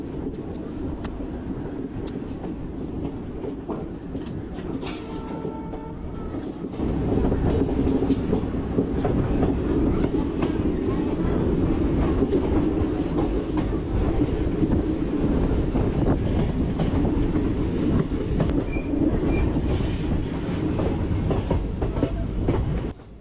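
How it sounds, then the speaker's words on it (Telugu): A Kurnool to Guntur express train runs along a winding track, heard from on board as a steady rumble with rhythmic clickety-clack that grows louder after a few seconds, and a faint horn-like tone early on. "ఫ్రెండ్స్ ట్రైన్ చూసారా టర్నింగ్ టర్నింగ్ తిరుగుతుంది"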